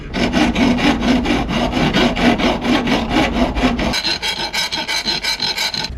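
A hand file rasps across the sharp corners of an aluminum piece, producing rapid, regular rhythmic strokes, loud and close, with the rhythm thinning out toward the end.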